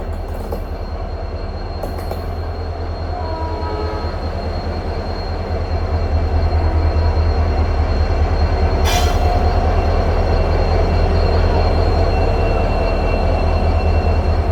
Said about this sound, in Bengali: টাইম ঠিকই আছে, ট্রেন ঢুকছে।